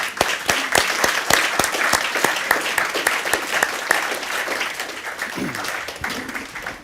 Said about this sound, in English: everyone can join me in applauding them